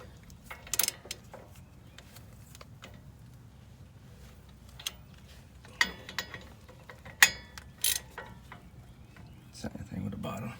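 A ratchet tightens the brake assembly bolts on a 2014 GMC Sierra / Chevrolet 1500 pickup during rotor replacement, with scattered sharp clicks and short ratcheting bursts, close but faint, among quiet shop noise.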